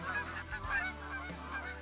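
A flock of geese honks repeatedly nearby during a goose hunt, overlapping calls in quick irregular bursts with no voices.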